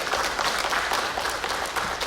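A church congregation claps in celebration, a brief, even burst of many hands at moderate loudness, steady from start to finish.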